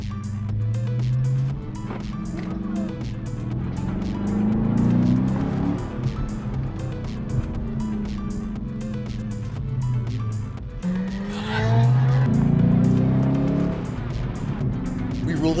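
A car pulls away after a car show, its engine revving and droning in repeated rising sweeps as it accelerates through gears, fairly close and steady for the whole stretch.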